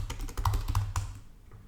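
Quick clatter of computer keyboard keys pressed in a short burst, a handful of crisp clicks close up before the sound fades to quiet.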